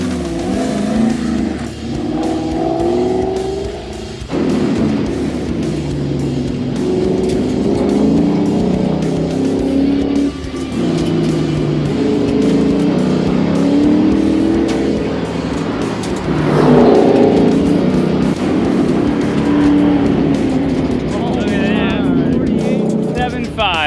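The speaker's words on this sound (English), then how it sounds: "This Mustang definitely has more in it." A Ford Mustang V8 muscle car accelerates hard on a race run, its engine note rising and swelling loudly throughout, with excited voices talking over it.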